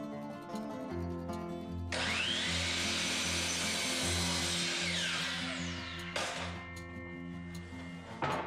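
Power saw ripping through wood for medicine cabinet side pieces, a close, loud whining cut lasting about four seconds and then a shorter second cut, over a faint steady rhythmic background hum.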